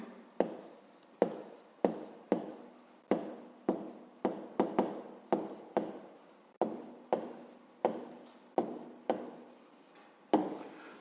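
A pen moves across paper as a maths exercise answer is written out. The strokes come as sharp, quiet scratches in a steady, uneven rhythm, close and with no talking over them.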